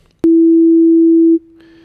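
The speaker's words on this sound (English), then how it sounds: "This is our sine wave." A pure sine wave synth tone from a Synthstrom Deluge, a loud steady hum that starts abruptly, holds for about a second, then drops to a quieter sustained level with a faint higher tone joining near the end.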